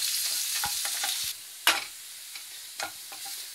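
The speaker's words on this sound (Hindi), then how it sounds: "अब हम प्याज को डालेंगे प्याज को हम पूरा गोल्डन ब्राउन करेंगे" Onions frying in a pan on the way to golden brown for okra chicken, with a bright sizzling hiss that drops in level partway through, punctuated by a few sharp scrapes and taps of a spoon, close and without speech.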